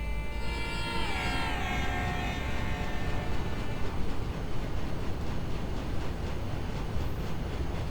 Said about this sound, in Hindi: देखते हैं कौन सी ट्रेन आ रही है। और हॉर्न बजाती हुई